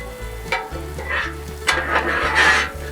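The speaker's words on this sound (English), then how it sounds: "And we're going to drag in all our onions" Onions and potatoes for home fries sizzle on a Blackstone griddle, with a steady frying hiss broken by scraping strokes of a metal spatula dragging and stirring across the flat-top.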